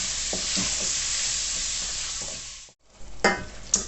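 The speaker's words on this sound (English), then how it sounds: "So with the mince in the go now for sort of 3 or 4 minutes, it should be all nice and brown" Minced meat browning in a hot pan with a loud, steady close sizzle, brief scraping stirs, a short pause, then sizzling and stirring again.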